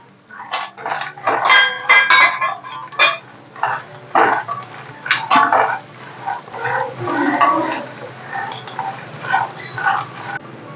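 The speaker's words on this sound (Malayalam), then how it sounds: "നമുക്കിനി ഈ നട്ട്സ് അങ്ങോട്ട് ഇട്ട് ഇളക്കാം." Roasted peanuts being stirred in a pan while making Kerala aval (beaten rice) mixture, giving a busy run of clattering, rattling scrapes and knocks that rise and fall across the clip, close and fairly loud.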